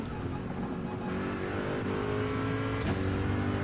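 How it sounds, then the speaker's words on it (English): A Corvette C7 Group 3 race car in Gran Turismo 7 drones at steady high revs, a loud continuous engine note with a brief gear-change dip near the end. "just had to keep my Corvette C7 Group 3 in the GTWS livery variation"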